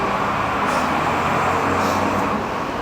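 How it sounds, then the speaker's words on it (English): Truck passing outside a balcony with doors open, a loud, steady low rumble of traffic noise that fills the whole stretch without pause. "There's a truck."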